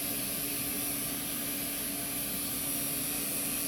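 Vacuum clipper running during grooming, a loud continuous whooshing motor drone with a steady hiss and no break, close to the listener.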